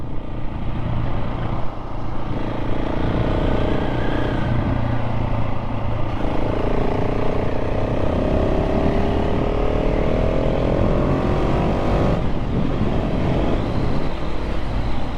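A KTM 690 SMC R motorcycle engine revs and roars continuously, rising and falling in pitch as it accelerates, loud and close throughout.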